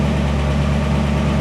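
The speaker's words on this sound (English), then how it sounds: "Noisy lifter." A 1963 Chevrolet Impala SS engine idles steadily with a deep, even rumble close by, and the noisy lifter may add a ticking within the drone.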